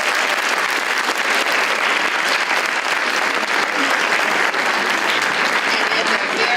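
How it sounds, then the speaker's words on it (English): A crowd at a university Black History Month program gives a keynote speaker a round of applause, loud, steady, dense clapping sustained throughout with a faint murmur of voices beneath. "Please give her a round of applause."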